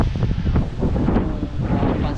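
Wind buffets a GoPro Hero 7 microphone in a loud, close, rumbling roar that gusts unevenly, with faint talk mixed in.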